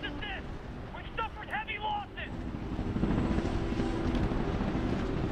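Helicopters in the video game Titanfall 2, a loud steady rotor roar that swells in the second half under brief bursts of game voices and effects.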